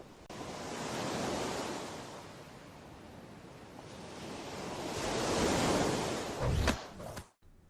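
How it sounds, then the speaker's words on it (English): Ocean waves crash and roll over a steady rush of wind, swelling twice into broad surges, with a brief sharp rustle near the end before it cuts to quiet. "all we heard were the sounds of waves crashing and Steven's clothes moving about due to the wind."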